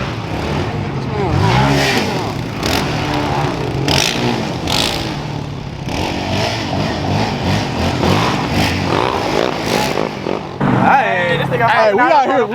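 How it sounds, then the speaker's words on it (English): ATVs rev and ride around outdoors, mid-pitched engines rising and falling through a string of throttle bursts, with voices talking loudly over them throughout. "Got the ATV boys out here going crazy."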